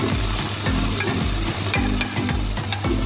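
Chicken skin frying in hot oil for chicharon, a steady sizzle with rhythmic scraping and stirring strokes recurring about every half second, close and fairly loud, with no talking.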